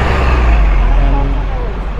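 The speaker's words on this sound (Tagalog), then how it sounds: "So, dito na kami sa bus stop ng Calagan." Traffic rumbles past a Hong Kong bus stop: heavy low engine drone from buses and cars, loud and close, with a voice talking over it.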